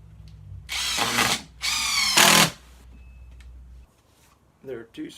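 Power drill driving screws into the back seat slats of a Muskoka chair: two loud bursts of whirring, each over a second long, then quieter handling clatter and a short burst near the end.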